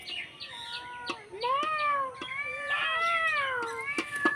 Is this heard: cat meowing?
yes